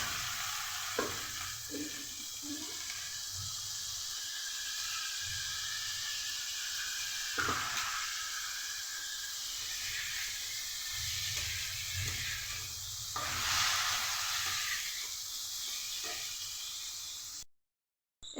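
Washed Gobindobhog rice sizzling in a hot pan as it is stirred, a continuous bright frying hiss with intermittent spoon scrapes and a brief louder surge, close and steady, no voices.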